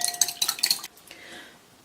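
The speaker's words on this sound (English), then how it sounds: "We need 2 eggs. We're going to beat those." Two eggs are beaten for crepe batter with a fork against a bowl, a quick run of bright rhythmic clinks close by that soon softens into a quieter swirl.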